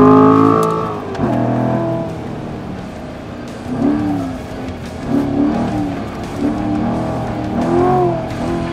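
Corvette C7 Stingray on a racetrack, its tuned exhaust giving a loud, sustained engine drone with repeated rising and falling revs as it accelerates through gears, no talk.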